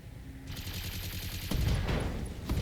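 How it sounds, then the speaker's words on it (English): In the Battletech video game, mech ammunition explodes as a burst of rapid cracking blasts, beginning abruptly and building into a louder, denser barrage of crackling detonations, with no talking over it. "Oh, and some ammo explosions."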